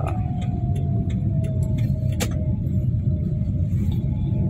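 A 2014 Daihatsu Ayla X car driving, heard from inside as a steady low road rumble with a faint engine tone and occasional light ticks and clicks.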